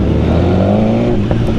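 A BMW S1000RR sport motorcycle engine rumbles loud and close, its revs rising and dropping through a short burst with a quick blip near the end.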